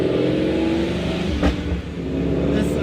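A Ford 5.0 V8 fitted with a Paxton supercharger and ported Boss manifold revs hard while driving, its loud steady engine roar close by with a brief dip in the middle.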